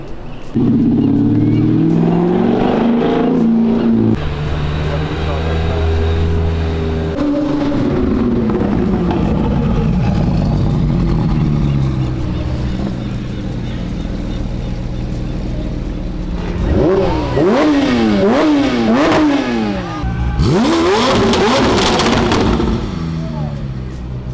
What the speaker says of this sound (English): We flew all the way to Cali to listen to a Subaru.